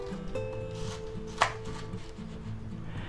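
A knife cuts vegetables in half on a board while preparing a pork stir fry, a single sharp, close chop standing out over quiet background with a faint steady hum.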